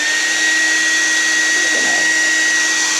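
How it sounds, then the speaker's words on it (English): A hair dryer blows steadily and loudly, held close over an acrylic crochet blanket, with a constant whirring rush of air and a high motor whine throughout. "I'm holding the dryer fairly close."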